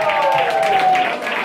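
A Spanish TV show's studio audience claps steadily throughout, a dense sustained wash of applause with a tonal whistle or sustained note gliding across it.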